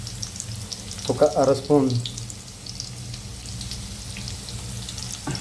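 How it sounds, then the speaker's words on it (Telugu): Moringa drumstick pods frying in hot oil for a chicken gravy curry, a low, steady sizzle underneath, with a brief stretch of someone talking in the middle. "మంచిగా ములక్కాయలు గోల్డ్ కలర్ వచ్చేంత వరకు వేయించుకుందాం."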